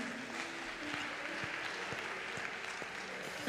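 Church congregation applauding Jesus during a worship service, steady clapping spread through a room that continues evenly throughout with faint voices beneath.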